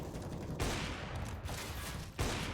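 CS:GO gunshots on the Mirage map in a professional match, two loud broad bursts about a second and a half apart over a constant noisy crowd backdrop.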